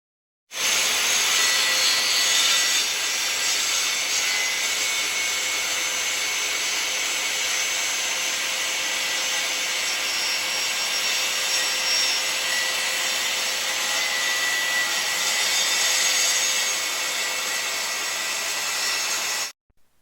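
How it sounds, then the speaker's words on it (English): A power saw blade cuts diagonally through hardwood plywood, a loud, steady high-pitched whine and rasp that starts abruptly, holds for about nineteen seconds, and stops sharply, with no voices. "run the saw blade through each subsequent work piece line of travel"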